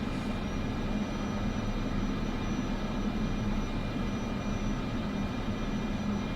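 A Cessna 208B turboprop taxis in MSFS 2024, a steady low engine drone and hum that holds evenly throughout at a modest level, with no talking.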